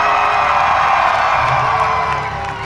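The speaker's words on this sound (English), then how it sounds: "Let's have a crowd cheer for" A crowd at a lawn mower demo derby roars with cheers, whoops and shouts, loud and sustained before easing off slightly at the end.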